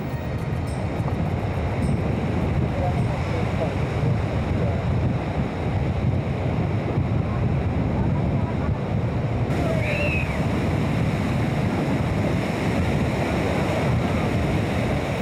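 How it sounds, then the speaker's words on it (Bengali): Rough monsoon surf at Cox's Bazar beach roars without a break, with waves crashing close by and steady wind blowing across the microphone throughout. "সাগরও সারাক্ষণই কথা বলে ঢেউয়ের মূর্ছনায়"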